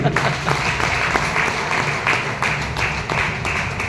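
Audience applause at a success-stories talk for a sapphire vice president, a steady dense clapping wash sustained over about four seconds with a low rumbling undertone, fairly loud and close, no talk over it.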